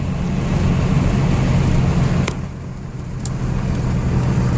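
A 24-valve Cummins diesel pickup truck engine with an HX35 turbo roars loudly and steadily as it accelerates, dips briefly after a clunk, then builds again with a deep, rumbling drone.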